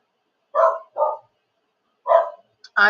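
A dog barks in short, close bursts: two quick barks, a pause, then another couple of barks, with quiet in between.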